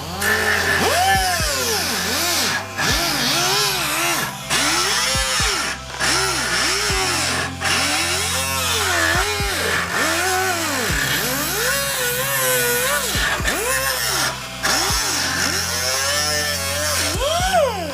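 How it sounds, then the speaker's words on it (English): An air grinder works metal on a Honda CRX project car, a loud whining tool that revs up and down in repeated bursts with brief pauses between passes. "Oh, we got an air grinder."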